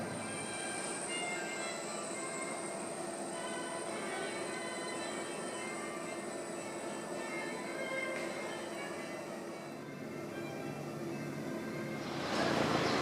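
A steady rumble of a train rolling along rails from Madrid to Seville, continuous and even throughout, with a faint high whine and a slight swell near the end.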